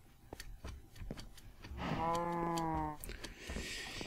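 A cow in the Minecraft video game gives one drawn-out moo in the middle, rising and falling, over faint game ambience and scattered clicks.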